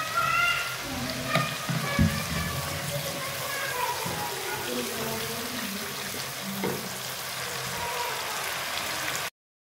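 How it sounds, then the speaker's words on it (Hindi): Water splashes and sizzles into a hot pan of frying mash dal, a steady frying hiss that continues for several seconds with faint clinks of utensils. "अब हम इसमें थोड़ा सा पानी ऐड करेंगे।"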